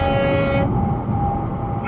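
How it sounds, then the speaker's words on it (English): A FreyMiller semi truck passes close on the road and blasts its air horn, a loud harmonic blare lasting under a second and trailing into a fainter tone over steady rumbling road noise, with no talking. "That's a semi truck. He's passing me, and he's honking his horn."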